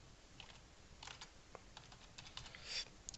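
Quiet computer keyboard typing as a passport or ID card number is entered, a series of light, irregular key clicks over a faint background hiss.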